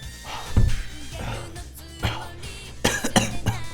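Several close coughs and throat clearings come in short bursts, a pair near the start and a cluster toward the end, with no speech over them.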